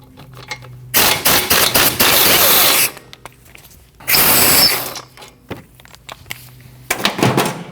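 A ratchet spins loose a 15mm upper control arm-to-knuckle bolt on a 2013-2019 Ford Escape rear suspension, heard as two loud, dense bursts of rapid clicking with a shorter burst near the end and quiet gaps between them.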